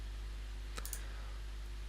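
A couple of quick computer mouse clicks, close and crisp, made while picking wall start and end points in Revit, set over a steady low electrical hum with no talking.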